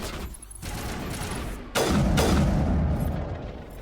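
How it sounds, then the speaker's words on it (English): Rapid-fire gunshots in the Mass Effect video game, a run of loud close shots with booming impacts, including a sharp blast about halfway through. "this is useful for, like, quick rapid-fire shots"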